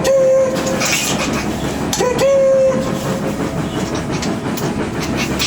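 Train running on rails at a railroad museum: loud, close, continuous rumble and rattle of the wheels, with a brief whistle-like tone sounding twice.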